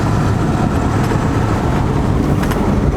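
A Ford 7.3L Powerstroke diesel truck travels at about 60 mph, its engine and road noise forming a loud, steady rumble with no speech.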